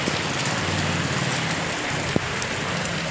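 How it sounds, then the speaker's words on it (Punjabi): Heavy rain pours down steadily in a rural Punjab village during the paddy season, a loud, even wash of noise close by with a faint low hum beneath and one brief knock. "ਬਹੁਤ ਜ਼ਿਆਦਾ ਮੀਂਹ ਪੈ ਰਿਹਾ ਦੇਖ ਸਕਦੇ ਤੁਸੀਂ ਪਾਣੀ ਪਾਣੀ ਹੋ ਗਿਆ"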